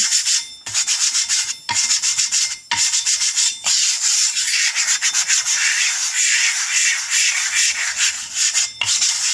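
Hard block rubbing abrasive grit into a lapping plate, a steady gritty scraping in repeated back-and-forth strokes with brief pauses, close and loud, with no voices.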